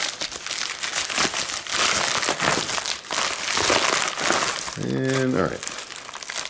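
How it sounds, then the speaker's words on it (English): A crinkly plastic package is cut and then ripped open. Loud crackling and tearing run throughout, mixed with someone talking close to the microphone. "rip down the side here"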